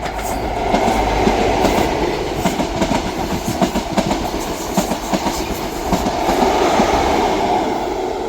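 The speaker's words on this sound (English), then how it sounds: "passing through at the same time is a ScotRail service from Edinburgh Waverley to Aberdeen" A ScotRail service from Edinburgh Waverley to Aberdeen rolls through Dalmeny station with a steady, loud rumble and rhythmic clickety-clack of wheels on rail joints, sustained close by for the whole stretch.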